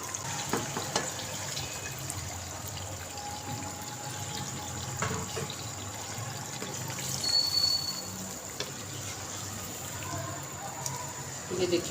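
Tap water runs steadily into a sink while raw chicken for korma is rinsed, a continuous close splashing trickle with occasional clinks and faint background voices.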